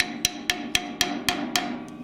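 Mallet or wrench tapping a soft wooden blank into place at a lathe tailstock during a woodturning setup: seven sharp, evenly spaced knocks about a quarter second apart, close and fairly loud over a steady low hum.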